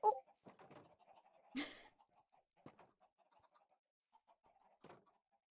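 Chickens cluck softly and intermittently nearby, scattered short clucks with a couple of louder squawks standing out over a quiet background.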